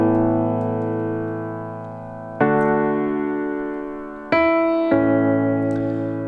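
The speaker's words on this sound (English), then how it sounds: "This piano is coming off of an electric piano, the ES6, Motif EX6" Simple piano line played on a Yamaha Motif EX6 electric piano: three clean chords struck one after another, each ringing out and slowly fading, with no other sound.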